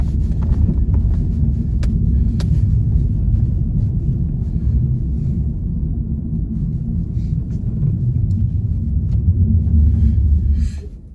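A car ploughs through deep snow on a winter road trip in the Ural region, its engine a heavy, steady low rumble that stays loud and continuous from start to finish, with scattered crunching and thumping over the top.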